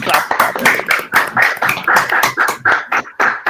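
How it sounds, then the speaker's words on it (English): A small group clapping at an online conference session, a loose run of distinct close hand claps with uneven rhythm lasting a few seconds, with no one speaking. "I think we clap that."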